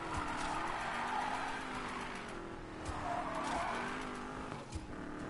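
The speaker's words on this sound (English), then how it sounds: "Let's see what this engine sounds like. Oh, it's turboed." A turbocharged car in a racing game revs hard while its tires squeal in a long skid, the engine note rising and falling under the screech, loud and steady throughout with no talk.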